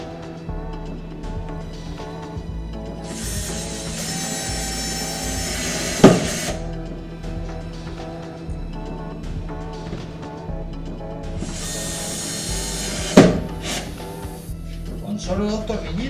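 Screws driven by a power driver into a melamine cabinet to fix a hinge give two separate whirring bursts of a few seconds each, close and fairly loud, over steady background music.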